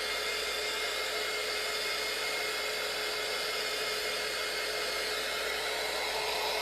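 A hair dryer blows steadily on chalk paint on a pallet board, a loud, constant, close whooshing hum with no change in pitch or breaks.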